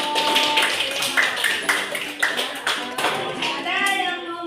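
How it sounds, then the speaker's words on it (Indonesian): A classroom group gets applause after presenting: a short burst of scattered hand clapping mixed with children's voices and chatter, close and lively. "aplaus untuk kelompok"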